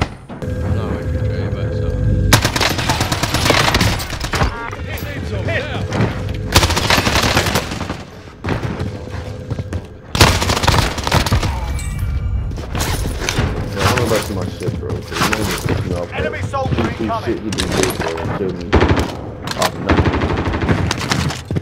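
Rapid bursts of video game gunfire, including machine-gun fire and single shots in a lobby with RPGs, crackle loudly and almost continuously, with a player shouting over the shooting.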